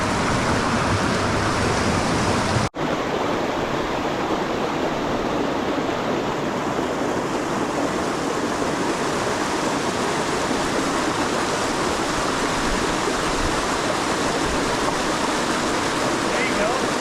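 A waterfall at a fishing spot pours steadily, a loud, dense rushing wash of water that fills the whole stretch with only a brief dropout near the start.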